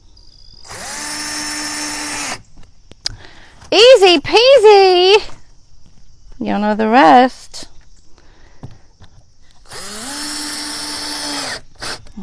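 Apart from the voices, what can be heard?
power drill driving screws into barn wood sign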